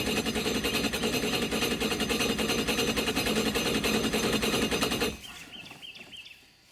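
An oil extractor pump drawing engine oil during an oil change on a Spark car runs with a steady, rapid rattling drone for about five seconds, then cuts off, leaving a faint fading hiss.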